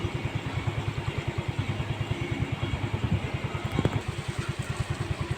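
Motorcycle engine puttering in a steady, rapid rhythmic chug, fairly close, as bikes ride through a flooded road, with a brief clatter near the end and no talking.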